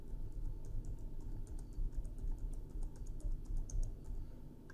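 Keys clatter on a computer keyboard as a card number is typed in, a steady run of light clicks over a faint room hum with no talking.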